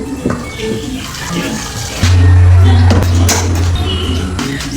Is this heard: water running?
yes